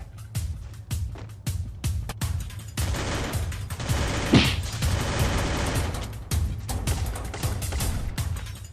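Rapid gunfire from the Free Fire battle royale video game: loud, sharp shots in quick bursts and single cracks, nearly continuous across the whole stretch, with one brief swelling whoosh midway.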